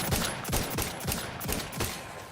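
Repeated gunfire from The Outer Worlds 2 video game: about five sharp shots at a steady, roughly half-second rhythm, close and fairly loud over a faint background hum.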